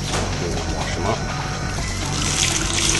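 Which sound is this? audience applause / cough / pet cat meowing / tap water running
tap water running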